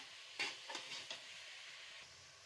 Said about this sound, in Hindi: ऑयल के अंदर 3 से 4 मिनट के लिए हम इसको फ्राई करेंगे, जब तक इसका कलर चेंज नहीं हो जाता